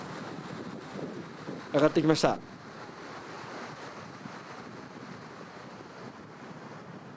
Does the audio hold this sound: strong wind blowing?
yes